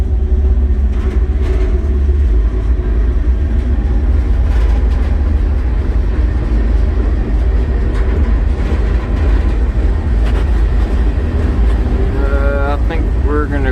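Freight train rolling along on smooth axles somewhere in North Dakota, heard from inside a cramped car: a steady, loud low rumble and rattle fills the whole stretch, with faint creaks and a brief higher squeal near the end.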